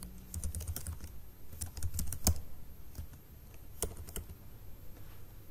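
Typing an email address on a computer keyboard: a quiet, close run of irregular key clicks with a few sharper taps, over faint room hum.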